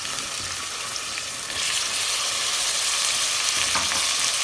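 Tomatoes and ginger-garlic paste hit hot oil with onions and sizzle loudly, the frying growing stronger partway through and continuing as a dense, steady crackle with no talk.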